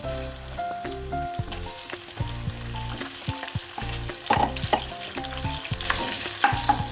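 Hilsa fish heads fry in hot oil with a busy crackling sizzle, broken by bursts of spattering and the clatter of stirring, over a steady tonal background hum.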